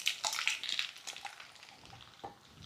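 Ground paste of roasted peanuts, coconut and sesame dropped into hot oil tempered with mustard seeds and cumin, giving a close, steady sizzle and crackle with a few stirring scrapes of the pan.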